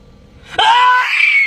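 A woman lets out one sudden, loud, sustained scream inside a parked car, starting abruptly after a faint moment and holding strong to the end.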